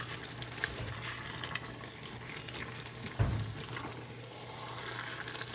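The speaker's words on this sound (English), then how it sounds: "So I'm just gonna let that simmer there, let everything warm up because the shrimp was cold." Jambalaya sauce with shrimp simmers and sizzles quietly in a pan, a faint steady crackle with a single brief clink partway through.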